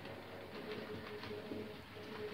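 A TT-scale model train with a Bordeaux-red class 232 locomotive and three mint-green Halberstadt coaches runs steadily, giving a continuous, fairly quiet mechanical rumble with a faint hum throughout.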